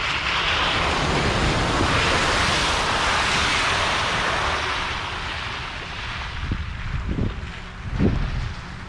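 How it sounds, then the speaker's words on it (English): Surf rushing and washing back down a shore, a broad steady roar heard from near a 2021 Jeep Wrangler 4xe Rubicon, easing slightly before a few soft knocks and a final surge. "The waves just pooling back down."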